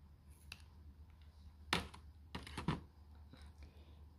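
Scissors cut through knitted sock fabric with a few quiet, crisp snips spaced irregularly, faint and close against a low background hum.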